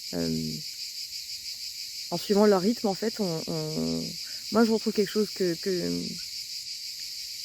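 Cicadas buzz steadily outdoors in nature, a dense continuous high whine filling the background while someone speaks over it.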